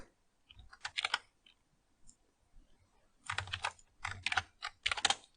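Keys clatter on a computer keyboard while entering a PowerShell command, a short run of taps, a pause with a few stray clicks, then a longer, denser burst of close, fairly quiet typing.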